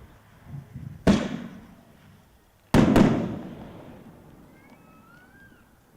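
Hell's Angels consumer firework shot outdoors at a Starr Fireworks dealer demo: a sharp loud bang, then a pause and a quick double blast with crackling decay, ending in faint whistling tails.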